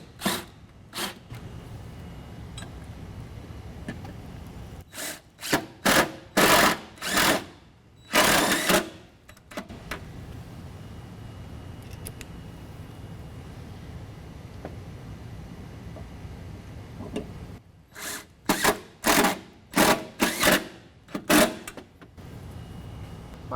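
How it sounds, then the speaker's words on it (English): Self-tapping screws are driven into a running board bracket on a Chevy Express van, with loud, sharp bursts from a power driver grouped into quick runs and separated by quieter gaps with background noise. "We're going to use 2 self-tapping screws per bracket."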